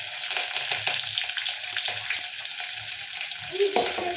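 Curry leaves frying in hot oil give a continuous crackling sizzle with bursts of spitting and occasional stirring scrapes, close and moderately loud throughout.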